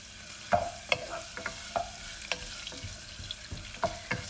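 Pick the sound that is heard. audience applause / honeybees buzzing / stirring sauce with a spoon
stirring sauce with a spoon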